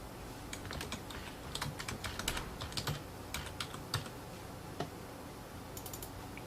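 Rapid typing on a computer keyboard entering a folder name, a steady run of light clicks with a few louder key strikes, close and alone with no talk.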